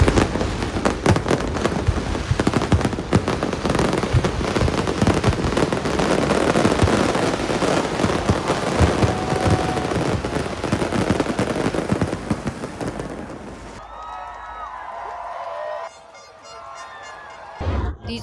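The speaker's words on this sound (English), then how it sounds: "These are much cooler fireworks than anywhere else." New Year fireworks in Manila crackle and bang in a dense, rapid barrage like gunfire for many seconds, then thin out into scattered distant pops over quieter background noise.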